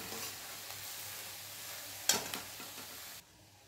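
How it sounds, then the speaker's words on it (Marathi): Chopped colocasia leaves sautéing in a pan, quiet sizzle with soft stirring scrapes and one sharper clink of the utensil before the sound drops away. "ही कापलेली आळू यामध्ये टाकायची आहे आणि व्यवस्थित अशी ही परतून घ्यायची आहे।"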